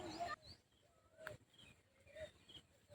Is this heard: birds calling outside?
yes